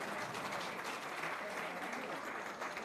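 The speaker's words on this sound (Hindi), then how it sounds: "इस पे और तालियां बजनी चाहिए था" Applause at the Pankh Khel Protsahan Award 2025 ceremony in Bhopal: a dense, steady roar of many hands clapping, fairly quiet and unbroken, with no voices above it.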